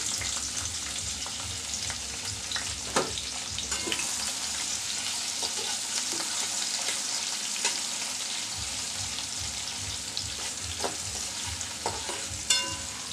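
Chopped onion and garlic fry in a pan for a tomato and scrambled egg dish, with a continuous close sizzle and occasional sharp clinks and scrapes of a spoon stirring against the metal.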